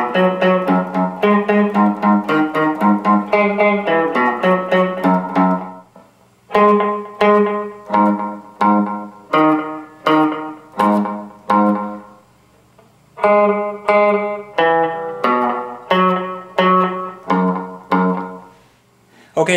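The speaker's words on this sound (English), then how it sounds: "I'm not using any echo, so I'm just playing it in staccato style." An electric guitar plays a riff in a dry staccato style with no echo. Short, crisp plucked notes come in repeated rhythmic phrases with brief pauses between them, played solo and close with no talking.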